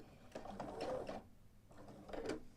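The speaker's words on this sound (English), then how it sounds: "take a few stitches" Sewing machine stitching quilt-as-you-go pieces, two short bursts of soft, muffled mechanical whirring separated by a brief pause, fairly quiet and close.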